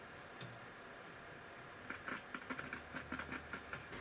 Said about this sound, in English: There's a nice distinct crackle there.